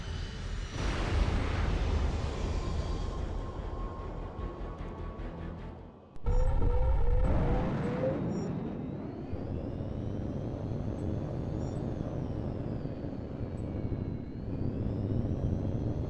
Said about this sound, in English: That explosion was no accident. Someone planted a bomb on that plane.